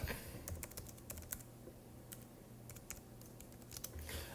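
A computer keyboard typed on quietly in a lecture setting: irregular bursts of soft key clicks with brief pauses between words, close and faint over a low steady hum.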